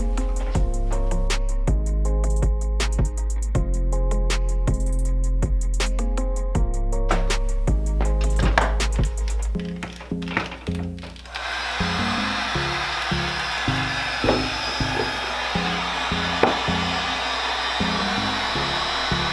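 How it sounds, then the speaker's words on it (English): A heat gun blows hot air at a label on a bottle, a loud, steady whirring roar with stop-start interruptions early on before settling into a rougher, noisier stream. "let's try the heat gun method"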